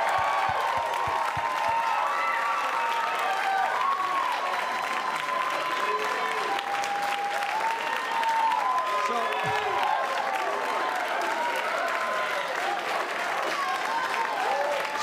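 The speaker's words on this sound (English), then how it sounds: "How about a round of applause for Mr." A comedy club audience at a live stand-up show applauding and cheering, with loud continuous clapping, crowd noise and whoops filling the room while voices talk over it.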